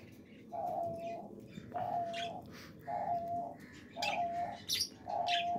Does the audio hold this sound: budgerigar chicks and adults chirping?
yes